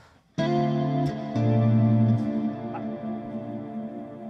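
Electric guitar played through a swampy reverb effect: a sharp strummed chord rings out loud and close, followed by a few more sustained chords and notes that blur into a thick, washy tail, with no voices.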